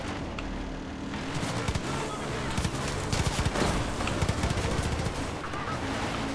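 Repeated gunfire from a gun in Far Cry 5, sharp shots in irregular clusters over a busy, loud game background of engine and ambient noise.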